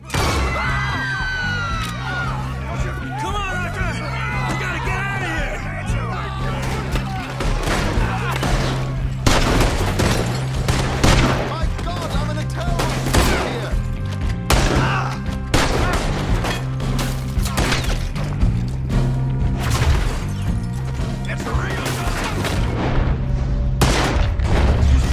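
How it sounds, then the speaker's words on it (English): Repeated gunfire from a Red Dead Redemption 2 shootout, with sharp shots and bursts ringing out steadily over a music bed throughout, now and then under a voice. "Shoot that man."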